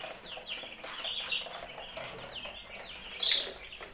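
Nine-day-old broiler chicks cheep and cluck continuously while crowding around feed, a busy chorus of high, close calls with one sharper peep near the end.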